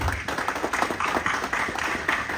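An audience at a ceremonial event at the Bank of Ghana's Bank Square claps in a round of applause, with a steady, dense patter of hand claps that holds for a couple of seconds.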